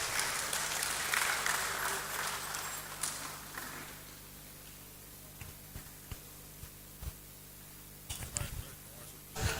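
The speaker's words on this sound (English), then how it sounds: "Please, a round of applause for her as she comes to the podium." A lecture-hall audience at a university faculty lecture series applauds loudly for about four seconds, then the clapping fades into quiet room tone with scattered footsteps and small knocks near the podium.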